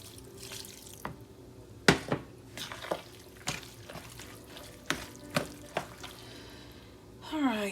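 Broth poured into a cooking pot, with scattered splashes, clinks and stirring scrapes at irregular intervals against a low kitchen background, ending in a short liquid gurgle.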